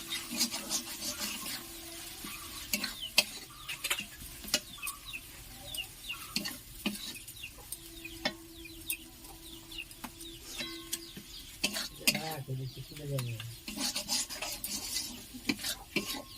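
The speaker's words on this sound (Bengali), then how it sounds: "এবার এটি ভালো করে কষিয়ে নিতে হবে।" Fish finger mixture stir-fried in a pan, with repeated scraping spatula strokes and a soft sizzle continuing throughout, close and moderately loud.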